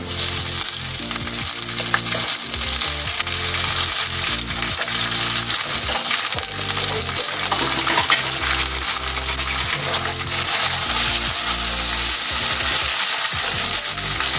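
Loud, continuous sizzling of ginger garlic paste frying in a hot pan with onions, with occasional stirring scrapes and clinks throughout.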